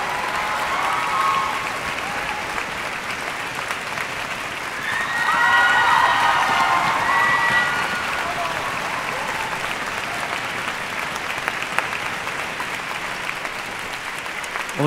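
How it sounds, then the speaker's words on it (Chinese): Audience applause following an orchestra concert of Rimsky-Korsakov's Scheherazade, a broad sustained clapping from a large crowd that swells midway, with a voice speaking over it. "热烈的掌声，谢谢他们"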